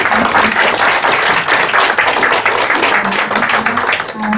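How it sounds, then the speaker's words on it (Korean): Audience members at a composer's greeting event applaud with full, close, steady clapping that stays loud and even throughout. "박수 한번 감사합니다"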